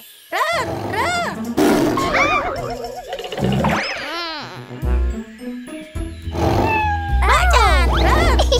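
Tiger roars in a children's animal-dance song are voiced imitations, repeated growly roars over loud, upbeat music with singing between them.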